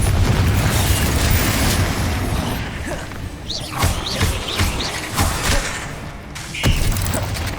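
A Confringo fire spell goes off in the wizarding video game Hogwarts Legacy on hard mode. It sounds like a heavy rumbling blast with crackling bursts layered over loud, continuous game noise, with no voices.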